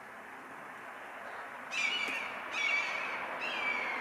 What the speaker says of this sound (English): Got an owl fight going on in the woods,